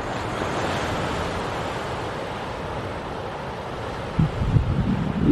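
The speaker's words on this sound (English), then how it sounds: "You can hear the bright waves breaking over the rocks down there" Surf breaking over coastal rocks below a clifftop walking track, a steady broad wash with wind noise on the microphone and a louder rush of water near the end.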